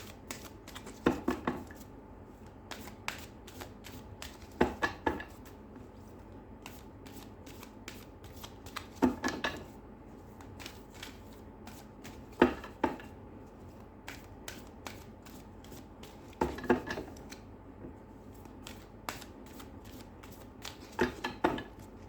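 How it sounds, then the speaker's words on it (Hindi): A tarot deck is shuffled and cards are drawn, producing repeated bursts of crisp riffling and flicking at close range, separated by quieter pauses, with no talking. "चलिए मैं इसमें से कार्ड निकाल देती हूँ कि आप इस वक्त अपनी लाइफ में क्या मैनिफेस्ट कर रहे हैं"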